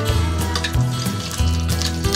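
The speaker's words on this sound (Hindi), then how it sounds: "पैन लिया, इसमें मैं अब घी डालूंगी।" Ghee sizzling and crackling in a hot pan while cooking aloo palak, a steady, close frying hiss with soft repeated scraping or stirring knocks, no voices.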